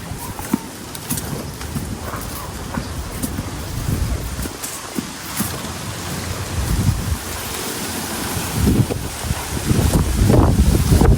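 Gusty wind buffets the microphone in a constant roar, with surf washing in the background and rising louder toward the end.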